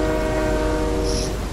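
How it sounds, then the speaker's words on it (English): A moving train in the Fortnite video game, a loud continuous rumbling rail drone with steady tonal hum throughout, alone without talk. "I just want to have fun on this train."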